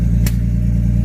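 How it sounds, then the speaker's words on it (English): A BMW E36 idling as it warms up, a steady low engine drone heard close and continuous, with one brief clack partway through. "Just gotta let the car warm up."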